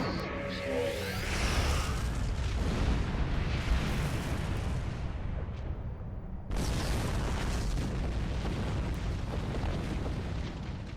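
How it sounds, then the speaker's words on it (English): Quantum torpedoes launching from a starship in the game Star Trek Online, a dense roaring blast with booming bursts that fades, then a second loud launch surge cuts in around the middle and carries on to the end. "Arm quantum torpedoes, full spread."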